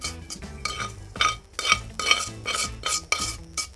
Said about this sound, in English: So I'm going to transfer this salt we just cooked up to another batch we did earlier.